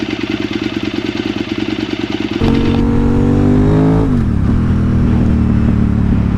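A 2007 KTM 950 SMR motorcycle engine idles with a lumpy, uneven pulse, then fires up loud and close, revving and pulling away in rising, falling pitch sweeps as the bike rides off.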